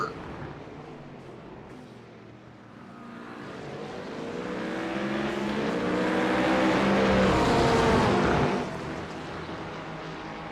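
GT3 race cars, a Porsche among them, roar through the Algarve circuit, engines building from a low drone into a loud rising howl as they pass close, then dropping away; a commentator talks over the noise.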